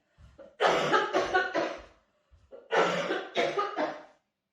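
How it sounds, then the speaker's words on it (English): Two bursts of harsh, chesty coughing, each a quick run of three or four coughs, close by with a short pause between them. "Mum's come back from London with a cough."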